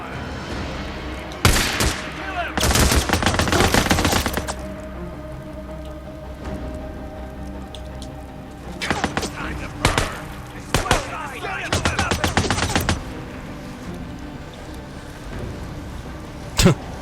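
Sniper fire in the video game Days Gone, heard as sustained bursts of loud, rapid crackling shots in several clusters separated by quieter stretches, with a couple of isolated sharp cracks near the end.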